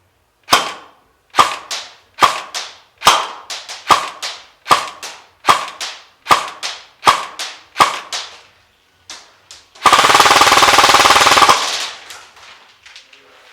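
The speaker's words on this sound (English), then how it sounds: "let's go to the Chrono Test and let's chrono the gun" Classic Army XM177E2 airsoft rifle firing 0.3 g BBs on a 9.6 V NiMH battery during a chronograph test: about a dozen sharp, evenly spaced single shots, then a loud sustained burst, close and without talk.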